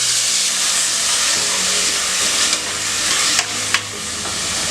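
Chopped tomatoes sizzle and hiss in a pan of sautéed onions for drumstick sambar, a steady close frying crackle with a few sharp stirring clicks near the end.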